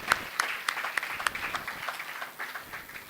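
An audience at a post-election seminar for a national assembly applauds the president, starting with a few sharp rhythmic claps that loosen into softer, scattered clapping fading toward the end, heard from a distance and quietly.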